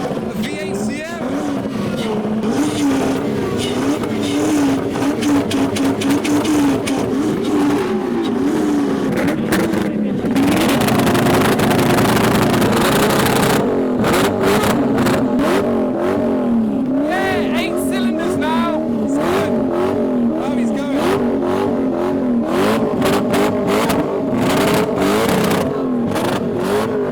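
Audi R8 V8 sports cars rev loudly at an outdoor car show, engine pitch rising and falling through repeated blips over steady crowd chatter, with a sustained roar in the middle.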